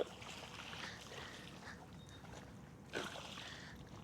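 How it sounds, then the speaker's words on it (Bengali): A boat pulling away through mangrove water at the Bichitrapur mangrove sanctuary in Odisha, with continuous water wash and a steady low rumble, plus a louder splash near the end. "আমাদের বোট এখন ছেড়ে দিল"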